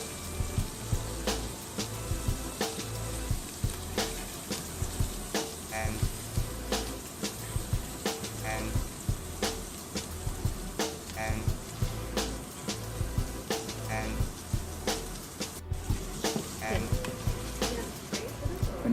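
Steak fries in a pan, a steady soft sizzle with regular ticking pops running throughout at moderate distance, with no talk over it.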